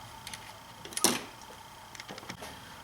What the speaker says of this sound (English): So now at this point, I can use a ratchet wrench to snug these down.